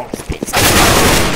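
CS:GO gunfire: a few separate shots, then a dense, loud sustained burst of automatic fire.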